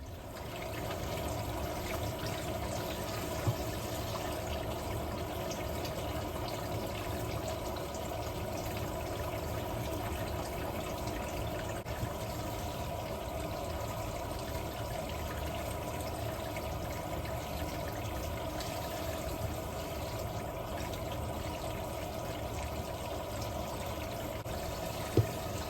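Tap water runs in a steady, unbroken stream for the whole stretch while a large batch of eggs is washed, with only a faint clack or two and no voices.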